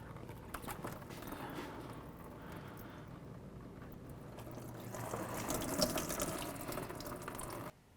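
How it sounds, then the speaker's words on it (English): Engine coolant drains from a removed thermostat hose on a 2003-2010 Dodge Ram into a recycling bucket, a steady liquid splashing and trickling that grows a little louder toward the end, with no talking. "Remove the clamp, just be prepared because coolant will come down."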